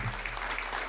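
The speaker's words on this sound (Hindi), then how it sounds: "ताली बजाओ" An audience claps together at a spiritual self-development talk, a brief, steady burst of dense clapping filling the room.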